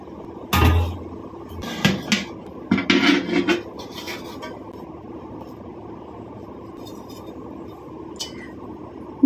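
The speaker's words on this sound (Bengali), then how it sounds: "এবার আমি এটাকে খুলছি মুখটা।" A metal lid is lifted off a pot of light egg and potato biryani, giving a few close clinks and clanks of cookware in a short cluster, then quiet room tone.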